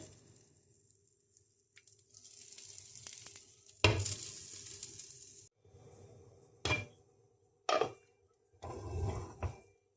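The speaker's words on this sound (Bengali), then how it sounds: "সেই ডিমটা সরষের তেলে ভাজতে হবে।" An egg fries in mustard oil on a stovetop, giving a steady close sizzle broken by several loud bursts of spattering and clattering as it is handled, with no talking.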